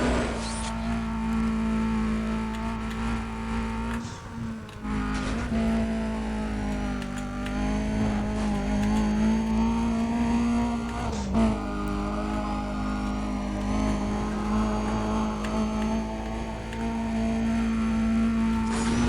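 Car engine accelerating in the racing game Need for Speed: Undercover, a steady, loud droning roar with layered tones that slowly rise and fall in pitch throughout, with no talking.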